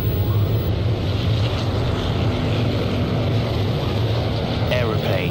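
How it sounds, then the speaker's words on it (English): Aeroplanes flying overhead in wartime Indochina near Vinh Yên, a steady broad droning roar filling the whole stretch at constant loudness, with wind buffeting the microphone. "Aeroplanes."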